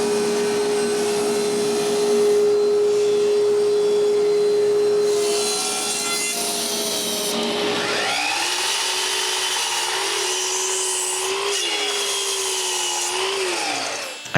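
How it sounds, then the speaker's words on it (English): Pine boards for pantry side frames being cut with a power tool, a steady whining machine drone that rises in pitch as the blade bites, then dips and recovers under load, loud and close with no talk. "The next day, I cut all the wood for the sides frames."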